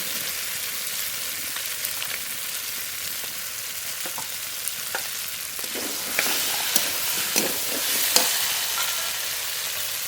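Fried bam fish going into sizzling masala in a pan, a bright steady frying hiss close up, with scattered clinks and stirring scrapes growing busier toward the end, no voices.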